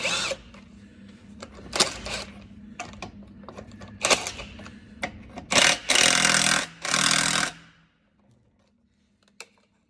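Power tool loosening tight wheel nuts on a Ford Transit van, several short whirring bursts and clicks then three longer loud rattling runs near the middle, ending in quiet.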